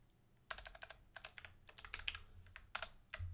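Quiet typing on a computer keyboard in irregular bursts of quick clicks, separated by short pauses, close and faint, with no talking.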